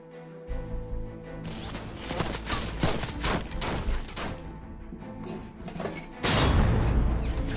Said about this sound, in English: German forces open fire on them from all directions.